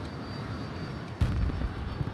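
A video-game airplane engine in Battlefield 2042 drones steadily at low volume, then swells with a louder surge partway through, continuing as a rough, rumbling hum with no talking.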